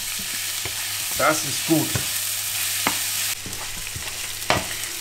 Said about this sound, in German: unsere Wurst ist jetzt langsam hier dabei, schon ein bisschen braun zu werden